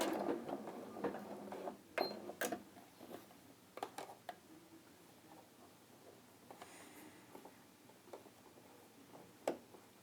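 A sewing machine runs short stop-start bursts while stitching a back tack during dressmaking, with sharp mechanical ticks and clatters spaced irregularly, fairly close and quiet.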